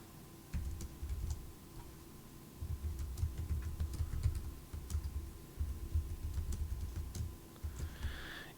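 Computer keyboard keys tap in short irregular runs with pauses between them, quiet and close against a low steady room hum; no one speaks.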